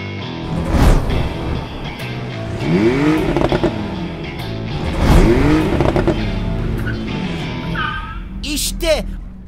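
A toy race car runs alongside children's play, with revving, whining engine sweeps rising and falling several times, loud and close, mixed with cartoon-like music and background sounds.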